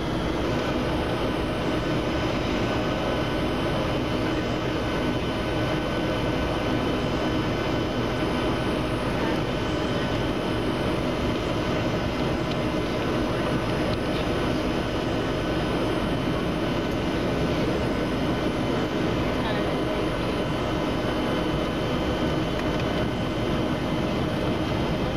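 Engine noise fills an airplane cabin: a loud, continuous jet roar and hum that holds steady throughout, with no talk over it.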